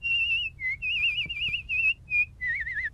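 Maggie from The Simpsons whistles a short wavering tune as a run of clear, fairly loud phrases with brief pauses between them, sounding close and alone.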